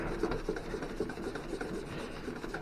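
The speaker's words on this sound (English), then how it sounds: "when you're polishing that much, probably best to flip the rag over" A rag rubs Simichrome polish over a vintage tin Bowes Seal Fast tire repair cabinet in quick, close, repeated scrubbing strokes with a dry scratchy texture.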